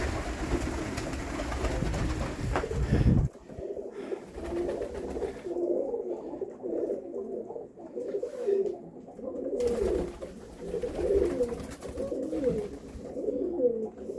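Soft, repeated throaty cooing from pigeons close by, in rolling phrases over a faint background rumble; a brief louder noise comes before the cooing.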